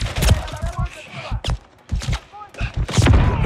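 Gunfire directed at a helicopter in the video game Call of Duty Modern Warfare 3, a series of heavy booming shots and thuds in irregular bursts, mixed with radio voices talking.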